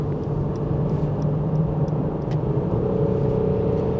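A 2021 Mercedes C300 Cabriolet cruising at high speed, heard as a steady, loud rumble of road and engine noise with a constant hum throughout and no voices.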